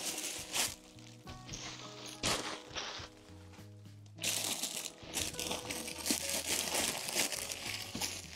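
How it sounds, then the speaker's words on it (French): A wrapped gift holding carp fishing gear is torn open, its paper crinkling and crunching in loud close bursts with brief pauses between handfuls, plus a few dull thumps as the package is handled. "Et celui-là, il est encore emballé. Je le découvre avec vous. Donc, on va l'ouvrir."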